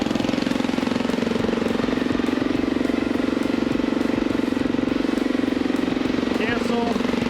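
A Honda dual sport motorcycle with dual exhaust idles close by, its engine making a loud, steady, rapidly pulsing chug that runs without a break throughout.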